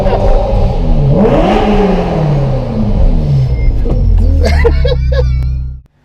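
A Ferrari engine accelerates and revs hard on an empty road at night, rising and falling in pitch with loud sweeping rises, then settling into a low steady drone before cutting off abruptly at the end.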